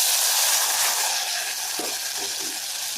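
Tomato, a dried red chili and curry leaves sauté in hot oil with mustard seeds for herbal rasam, giving a steady close sizzle and hiss with a few soft stirring scrapes and no talking.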